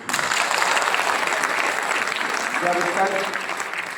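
Steady applause from a gathered crowd at a gathering honoring UP Transport Corporation bus staff, loud and continuous for several seconds without a break.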